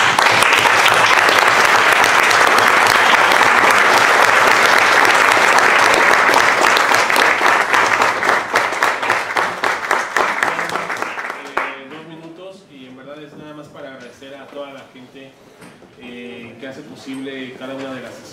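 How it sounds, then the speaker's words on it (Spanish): A lecture audience gives a sustained round of applause after a philosophy talk, loud and dense for about ten seconds before tapering into a few last claps, followed by someone speaking. "Le damos otro aplauso a..."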